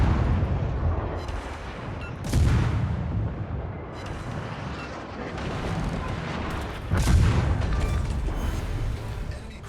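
Naval gunfire and shell explosions from the World of Warships video game boom in a dense, continuous battle rumble, with two heavier blasts standing out above the steady roar.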